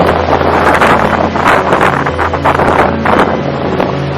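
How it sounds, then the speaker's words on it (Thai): Rough sea off Ko Kood island in Thailand surges heavily under strong, gusty wind and rain, with loud, continuous wind buffeting the microphone over the churning waves. "คลื่นมันแรงมากๆเลยนะครับเนี่ย"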